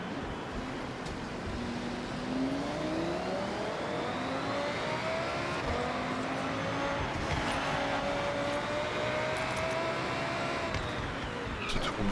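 A car in the video game Forza Horizon 6 drives through Tokyo, its engine revving steadily and climbing in pitch with gear changes, one continuous loud drone from start to finish.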